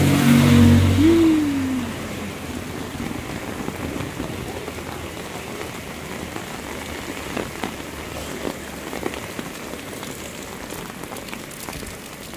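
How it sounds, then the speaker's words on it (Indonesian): Heavy rain falls on a village in Indonesia, a dense, steady hiss of drops drumming on surfaces. A vehicle engine rumbles briefly at the start, then the downpour continues alone. "Kondisinya panas tapi hujan."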